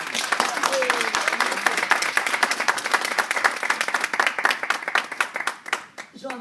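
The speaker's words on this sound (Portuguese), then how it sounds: "Vamos dar uma salva de palmas aqui" A room full of people applauding, many hands clapping in a dense patter that thins out toward the end, with a voice briefly heard over it.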